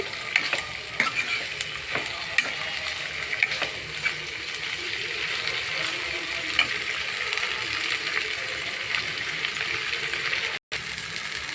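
Ingredients for a tomato chutney fry in a pan with a steady close sizzle, broken by frequent sharp clinks and scrapes of a stirring spoon, followed by a brief silent gap near the end.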